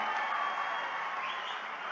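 A large crowd at a public political rally applauds for two candidates, a dense, sustained wash of clapping with scattered cheers and no talking.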